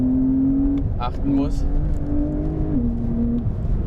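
A Porsche 911 Carrera of the 992 generation drives along, its engine giving a steady, loud drone with a slight rise and fall of pitch, while someone talks over it throughout.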